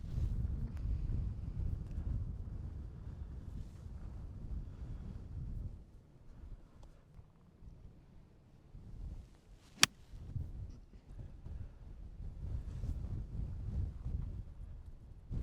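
Strong gusts of wind buffet the microphone on a golf driving range as low rumbling surges. They ease off midway and then build again, with one sharp click along the way.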